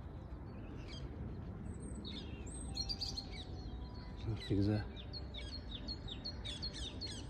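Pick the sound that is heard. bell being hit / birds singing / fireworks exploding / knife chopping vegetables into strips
birds singing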